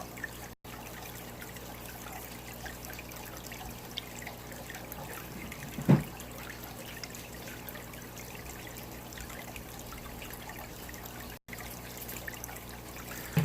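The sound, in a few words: spraying water on aquarium plants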